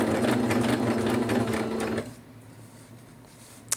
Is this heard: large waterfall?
no